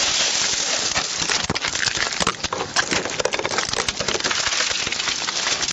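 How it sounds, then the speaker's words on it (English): Police officers break a car window during a traffic stop, with a dense, loud crunching and scattering of shattered glass fragments tinkling and crackling throughout. "break the window and take her out"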